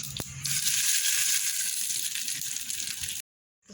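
A loud, steady crackling sizzle of curry leaves dropped into hot tempering oil, with a brief sharp clink near the start, then sudden silence at the end.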